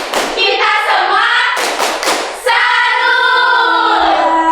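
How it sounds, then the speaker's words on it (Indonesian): A classroom of students performs a rhythmic clapping cheer together, loud and close, with a few sharp thudding claps and sustained chanting voices over much of the clip. "Beri tepuk salut untuk kita semua yang hari ini sangat semangat."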